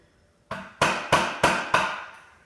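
A hammer strikes a nail in five sharp, evenly spaced metallic taps, each ringing briefly, while knocking out the rear sight of a Mosin Nagant rifle. The taps are close and loud, with no talking.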